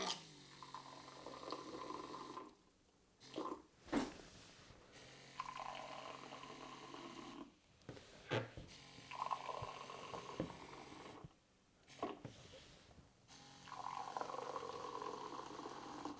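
Wine bubbling and gurgling close by through a Vinaera Pro aerator in quiet bursts, broken by a few short pauses.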